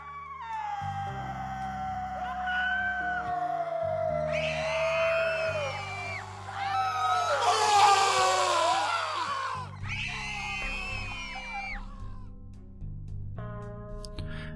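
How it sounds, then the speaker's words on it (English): Wailing, cat-like screams rise and fall over a low sustained musical drone, several long eerie cries overlapping in a dark night scene of a tabletop horror story. "Then, in the dead of night, the screams began."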